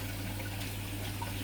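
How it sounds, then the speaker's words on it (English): Water from a tap running steadily in a kitchen while hands are washed mid-way through baking a blueberry cake, a constant close splashing flow with no talking. "Wash my hands."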